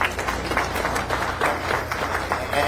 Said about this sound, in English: And y'all clap,